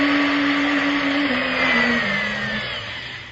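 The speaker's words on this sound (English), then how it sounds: "something went wrong with the blender" A kitchen blender runs loudly as a radio drama sound effect, a steady whirring motor whine that steps down in pitch as it slows, then fades slightly toward the end.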